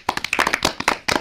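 A children's quiz audience claps for a team's correct answer, a burst of sharp, uneven handclaps from a small group, close and fairly loud, with no talking over it.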